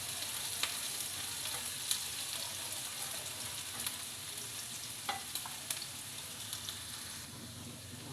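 Onions frying for a spicy chicken dish, a steady close sizzle with occasional sharp clicks from a spatula stirring the pan.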